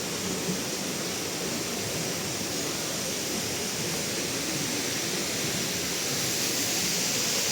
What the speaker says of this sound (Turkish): sonunda şelale göründü arkadaşlar. 90 fit yüksekliğinden dökülüyormuş.